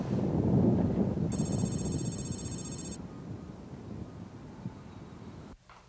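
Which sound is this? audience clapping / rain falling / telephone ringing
telephone ringing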